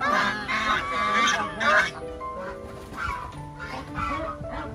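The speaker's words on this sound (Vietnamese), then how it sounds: "Ngỗng." Several geese honk repeatedly in loud, nasal bursts, calling over one another at close range.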